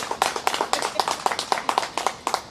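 Close, lively clapping from an audience follows a magic trick at a first-anniversary celebration. Quick, fairly regular claps sound from a small group, loud and distinct, with no talking.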